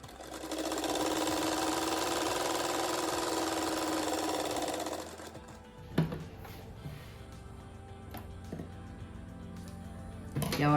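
A sewing machine stitches a flower-design rug in one long, loud, steady whirring run for about five seconds, then stops, leaving only faint handling knocks and fabric rustles.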